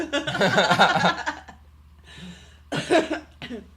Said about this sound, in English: we're the only two coughing here